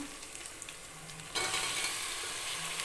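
Onions and tomatoes sautéing in a pan for a tamarind curry with turkey berries, a quiet sizzle that jumps louder midway as more goes into the pan, then holds a steady frying hiss.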